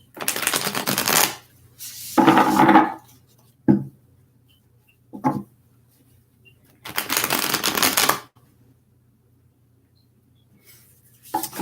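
A deck of tarot cards is shuffled by hand in several separate bursts of rapid riffling and flicking, close and crisp, with quiet gaps between them.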